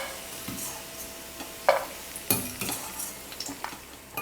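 Cashews and raisins frying in ghee in a pan for semiya payasam, a soft steady sizzle under scraping and stirring, with a few sharp metallic clinks of the spoon against the pan and no voices.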